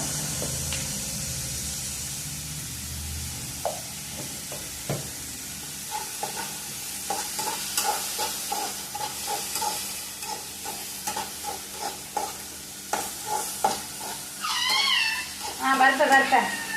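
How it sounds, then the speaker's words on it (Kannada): Tomatoes with turmeric powder fry in a pan in a low, steady sizzle, broken by regular scraping taps of a spoon. Near the end a cat meows nearby. "ಸ್ವಲ್ಪ ಹಲ್ದಿ ಪೌಡ್ರ್ ಹಾಕಿ ಫ್ರೈ ಮಾಡುವ"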